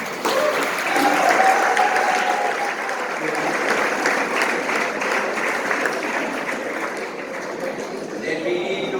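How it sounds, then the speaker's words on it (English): Sustained applause from an audience at a boys' dance competition semi-final, a broad, loud wash of clapping lasting throughout, with voices faintly mixed in. "a big applause to the"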